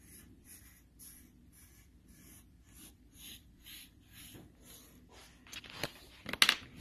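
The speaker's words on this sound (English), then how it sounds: "Take the two sheets of big paper and just draw a cloud." Pencil or marker drawing a cloud shape on large sheets of paper: rhythmic short scratchy strokes repeat at a steady pace, close to the microphone, ending in a few louder rustles of handled paper.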